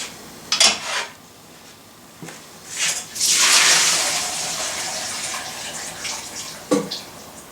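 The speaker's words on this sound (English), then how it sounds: "But I also have to drain the chickpeas. So a convenient way to do that is to use a strainer." Chickpeas being drained through a strainer, water rushing and splashing in a loud burst with brief metallic clinks before and after, no talking.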